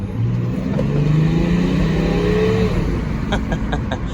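A BMW X5 35d diesel SUV, tuned with emissions equipment deleted, revs up and accelerates steadily, a loud continuous motor roar with rising pitch, with a few faint clicks near the end.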